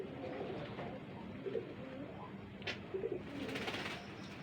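Tiger-coloured high flyer pigeons at a farm give a few soft, low coos, quiet against faint background noise.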